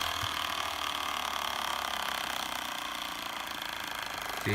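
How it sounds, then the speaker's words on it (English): Tiny air-powered piston engine of an Air Hogs Accelerator toy plane running steadily, a continuous close buzzing whir with a fast rattling texture, alone and unbroken. "See, there's the piston running."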